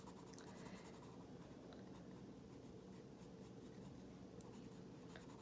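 A regular pencil scratches steadily across paper while drawing a butterflyfish, a faint, continuous, close-up scraping with no talking.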